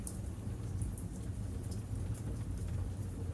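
Steady rain falls outside at night, a dense, even hiss with scattered drop patter, continuous and moderately soft with no voices.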